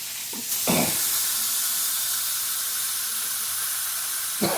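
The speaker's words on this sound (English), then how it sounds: "I want to sear the sides as well." A steak sears on its sides in a hot pan, giving a loud, close, steady sizzle and hiss that swells sharply at the start and again at the end.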